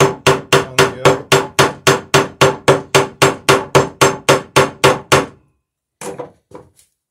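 Hammering copper rivets while framing a traditional wooden Marblehead sailing dory: a fast, even run of about twenty loud, ringing hammer strikes, then a pause and a few lighter taps.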